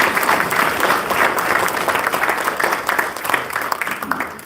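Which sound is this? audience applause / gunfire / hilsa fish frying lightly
audience applause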